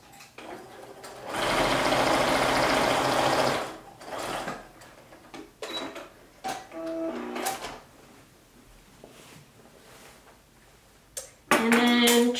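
A sewing machine stitching an elastic casing closed on fabric shorts, a steady close mechanical whirring burst of about two seconds, followed by scattered clicks and handling noises and a short final run.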